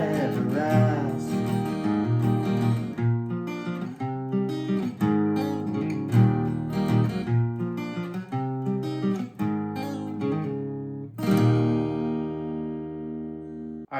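Acoustic guitar plays the outro of a song alone, steady strummed chords ringing full and close for most of the passage, with a brief break before a final loud strum that decays out.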